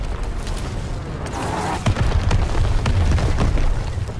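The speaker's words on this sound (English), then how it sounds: "Sounding artillery!" Artillery fire booms in Call of Duty WWII, a rumbling barrage of heavy blasts and bursts that grows denser and louder toward the end.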